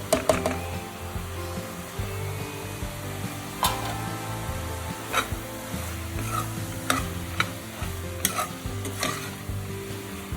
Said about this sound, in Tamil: மல்லித்தூள் ஆட் பண்ணி ஒரு கிண்டி விடணும்.